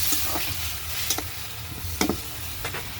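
Stinging catfish frying in a pan with radish, potato and eggplant, giving a steady sizzle with a few sharp scraping spatula strokes spaced across the clip, close and fairly loud.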